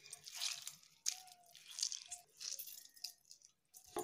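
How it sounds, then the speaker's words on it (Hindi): Cooked hyacinth beans squeezed by hand, their water wrung out in wet squishy presses and drips, with short crunchy squelches coming close and faint in a quiet kitchen. "इसे दबा दबा के आप इसका पानी नीचे उड़ दें"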